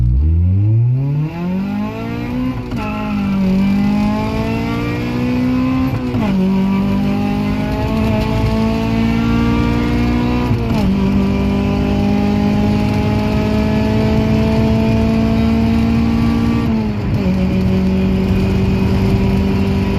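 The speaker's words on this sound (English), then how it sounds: "we're gonna do a soft launch, rolling launch" Honda Civic with an H22 engine on a rolling launch, revving hard through several rising gear pulls with brief dips at each shift, loud and close inside the car.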